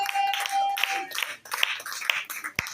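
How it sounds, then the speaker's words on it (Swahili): Applause from a church congregation welcoming a pastor from Kigoma: a steady patter of hands with a few sharper claps, fairly close, over a sustained tone and brief faint voices. "Makofi."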